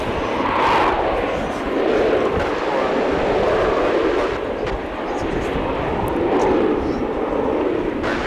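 A Boeing 737-800 jet departing DFW for Denver, its engine roar steady and loud throughout with slow swells in intensity, while a voice talks over it intermittently.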